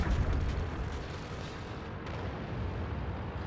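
Tank gun fire from a T-54 in the World of Tanks video game, a heavy booming rumble that opens loud and then settles into a sustained low roar of battle noise, with no talking.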